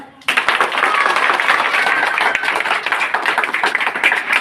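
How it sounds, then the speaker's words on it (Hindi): Children and an audience break into sudden, dense applause that starts abruptly and holds steady and loud for several seconds, a crowd of many hands clapping close together. "जोरदार तालियां"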